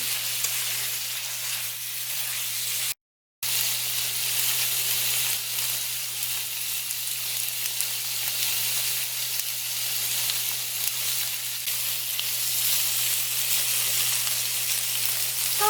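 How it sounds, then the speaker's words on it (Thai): Bamboo shoots stir-fry with oyster sauce in a pan, giving a steady close sizzle broken by one brief silent gap near the start, then hissing on evenly without talk. "น้ำมันหอยหนึ่งช้อนโต๊ะ ผัดจนงวดนะคะทุกคน"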